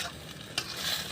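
Pakbet cooks over a wood fire while being stirred, making a brief, soft, steady sizzle with one faint scrape of a utensil partway through. No one speaks.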